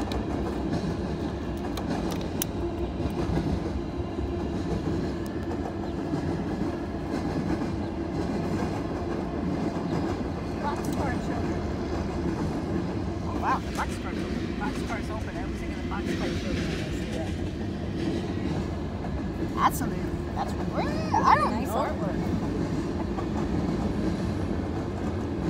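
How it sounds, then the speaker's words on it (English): CSX mixed freight train cars roll past in Kingston, New York, a continuous loud rumble and rattle lasting throughout, with a faint squeal near the end. "I'm gonna try to count how many cars are on this train"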